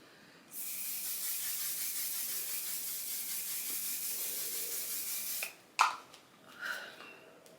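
Setting spray hisses from a pump bottle in one long continuous burst, close and soft, followed by a few small handling knocks and rustles.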